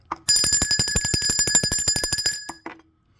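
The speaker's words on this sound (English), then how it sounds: "Let's ring the bell of consciousness for that." A bell struck in a fast, even volley of about twenty bright, ringing strokes over two and a half seconds, followed by a couple of fainter, separate strikes as it dies away.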